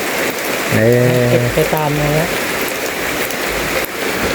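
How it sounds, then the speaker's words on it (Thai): Steady rain falls on a surface outdoors during a rainy-month cooking event in Thailand, a constant broadband hiss filling the whole clip while people talk briefly over it. "เพราะว่าเดือนนี้แล้วฝนตก"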